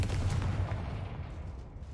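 Confringo fire spell cast in the Hogwarts Legacy video game, a loud blasting burst with a booming, rumbling low end that decays over about two seconds, with no talking.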